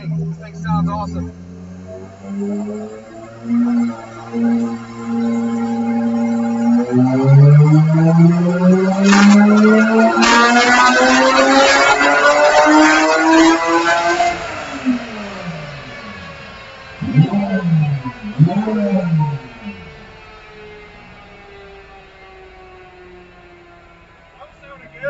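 A Subaru STi fitted with an H6 engine revs on a dyno, climbing through a long loud pull to a high whine with boost, then dropping off with a few blips and burbles as it settles.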